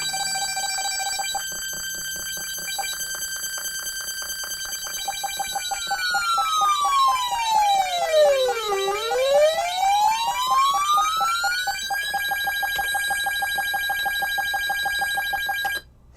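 Commodore 128 home computer's SID sound chip plays a steady, loud synthesized electronic tone with buzzy harmonics, then a long pitch sweep dives down and climbs back up before settling into the original repeating pattern.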